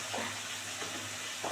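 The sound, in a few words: spice paste sizzling as it is sautéed in a pan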